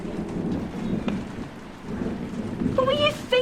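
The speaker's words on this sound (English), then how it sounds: "I just wanted to feel the rain." Rain falling steadily at night with a low rumbling wash and occasional thunder, with a voice and a few tonal cries rising over it near the end.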